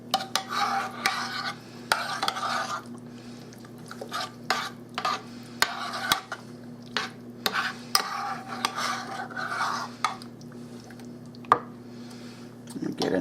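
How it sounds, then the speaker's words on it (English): A spoon stirs pork and beans in tomato sauce in a pot, giving a string of soft, irregular scrapes and wet clicks over a steady low hum. "Get it mixed real good now."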